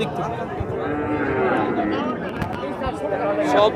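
A Sahiwal bull at a busy cattle market gives a low, drawn-out moo. Someone talks nearby and a crowd chatters in the background.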